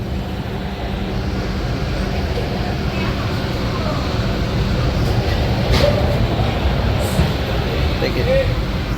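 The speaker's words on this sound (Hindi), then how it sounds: "तो देखिए भैया फिर से ट्रेन खुली और चल दी अपने रफ्तार में" Nagpur Duranto Express passenger train pulling away after a halt, a steady low rumble of wheels and carriage noise building gradually, heard from on board with people talking over it.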